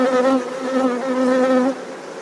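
A steady, close buzzing of honey bees humming continuously at a hive, then fading slightly near the end.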